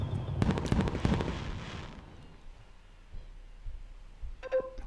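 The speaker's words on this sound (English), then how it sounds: "Watching fireworks from the beach is the best." Fireworks bursting in the Nintendo Switch farming game Story of Seasons: Friends of Mineral Town, a cluster of sharp crackling pops early on that fades into a quieter rumbling tail, with a brief bright chime near the end.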